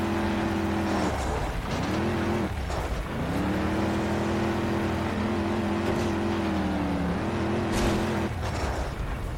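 A car engine in the off-road racing video game Trail Out revs up and down in sweeping, droning surges, easing off briefly before roaring back, loud and up close with no talk over it.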